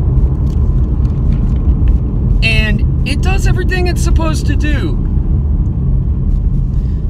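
A 2020 V6 Camaro cruises along a mountain road, its engine a steady low rumble heard from inside the cabin, with someone talking over it midway.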